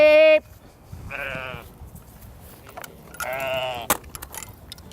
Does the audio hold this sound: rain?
no